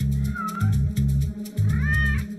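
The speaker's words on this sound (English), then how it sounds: "Frequent videos that I would put up always featured my cats." An early YouTube cat video with cats meowing, several rising and falling mewing calls sounding close over a steady, fairly loud low background hum.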